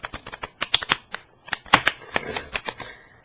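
Close, crisp snapping and fluttering of a deck of cards being shuffled, a quick burst of rapid clicks that slows and fades out.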